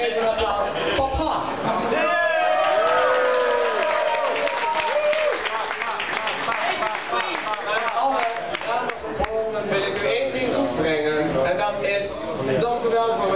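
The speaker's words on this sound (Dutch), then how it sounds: "Dames en heren, geef een applaus" Applause and cheering from an audience at a Dutch drag show, dense and sustained throughout, with voices and crowd noise mixed into the clapping.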